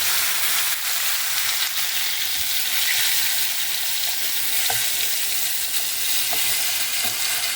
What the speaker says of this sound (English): Sizzling goodness.